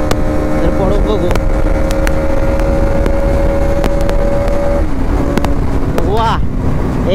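A Bajaj Pulsar NS200 motorcycle, a 2024 model just back from its first service, idles and revs loudly nearby with a steady engine drone, a pitch shift near the end, and wind buffeting the microphone.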